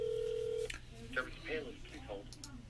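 A phone's touch-tone keypad beeps as a number is dialed to place an order, opening with a steady tone followed by several short spaced beeps while people talk quietly nearby.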